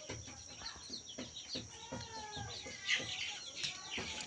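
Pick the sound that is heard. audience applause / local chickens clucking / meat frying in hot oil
local chickens clucking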